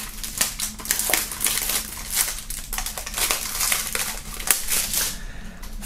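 Plastic foil wrap is peeled and torn off a boxed album set: close, irregular crinkling and crackling bursts keep going almost without a break.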